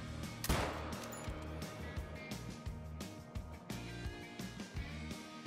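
Rifle shots aimed at a pack of wolves in the hunting game Call of the Wild, one sharp loud report near the start followed by a steady bed of game ambience and scattered fainter impacts.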